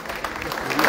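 Brief burst of applause from an audience at a Partido Verde Ecologista municipal committee swearing-in in Ocosingo, dense clapping that grows slightly louder over one second.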